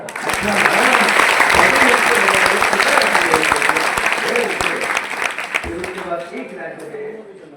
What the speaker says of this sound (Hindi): पीछे जितने बच्चे बैठे ताली बजाओ ना।